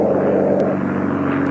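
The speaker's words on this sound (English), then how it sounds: "Watch out for that plane!" A cartoon propeller airplane drones past with a steady buzzing engine hum, loud and close throughout the short stretch.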